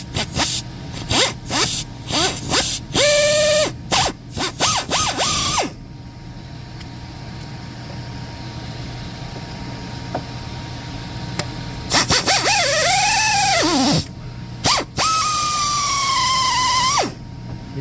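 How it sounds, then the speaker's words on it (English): A drill bores out a head bolt hole in a Honda D-Series engine block during thread repair, cutting in repeated short bursts that whine and squeal loudly, then resuming after a quiet pause with longer bites. "Don't try to drill it all at once."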